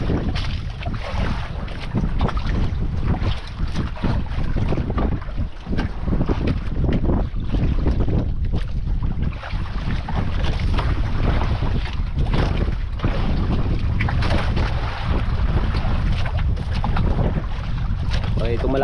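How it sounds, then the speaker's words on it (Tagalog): Strong wind buffets the microphone in a continuous heavy roar at sea near an island, aboard a small boat, with waves sloshing underneath and someone talking over it. "Mas lalong tumindi yung hangin"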